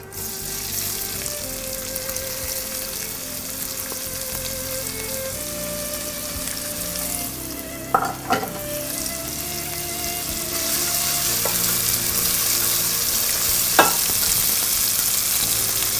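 Cumin seeds and chopped onion frying in hot oil for brinjal in tamarind sauce, a steady close sizzle that grows louder toward the end, with a few brief clinks of a spoon against the pan and no talk.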